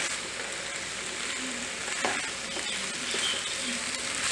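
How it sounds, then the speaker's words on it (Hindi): Vegetable macaroni sautés in a pan on a gas stove with a steady sizzle and occasional stirring scrapes, close and continuous with no talking. "लिए हम इसको सॉटे करेंगे।"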